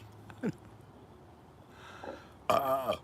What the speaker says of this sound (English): A coffee burp.